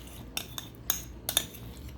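A utensil stirs butter into a cheesecake mixture in a pan, giving a few light metallic clinks and scrapes in an uneven rhythm, close but soft, with no voices.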